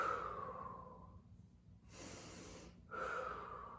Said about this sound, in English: Keep it a nice fluid breathing.